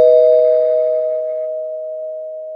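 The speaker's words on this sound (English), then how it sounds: "I hit the spoiler bell." A single sustained bell tone rings out cleanly and loudly, used as a spoiler-alert sound effect in a comic book podcast, then decays slowly over a couple of seconds.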